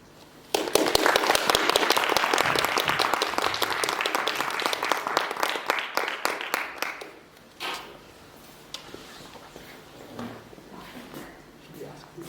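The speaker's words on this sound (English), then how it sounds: "I'd like to give another round of applause." An audience at an MISx Talks event on gender identity breaks into loud, dense applause that starts abruptly, holds for several seconds, then thins to scattered claps and a quiet room with faint voices.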